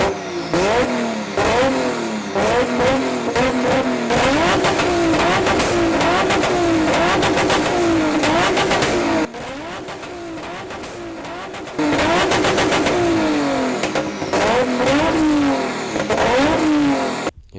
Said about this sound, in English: So Calum, how do you think the car's going to sound now? Very, very fucking loud.